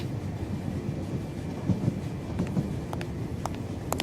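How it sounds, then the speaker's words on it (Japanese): Steady rumbling of a train crossing the galaxy in a game, a continuous low rolling drone with faint clicks of wheels over rails, moderate and unbroken with no voices. "ようこそ銀河を渡る列車へ。"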